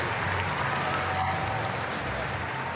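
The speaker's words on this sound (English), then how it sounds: "Viktor Durasovic departs Pat Rafter Arena. It's a nice reception from the crowd." Crowd applause at Pat Rafter Arena during a United Cup 2023 tennis match as Viktor Durasovic departs the court, a steady wash of clapping that holds at an even level throughout.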